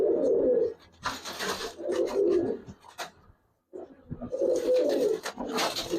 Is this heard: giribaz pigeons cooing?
yes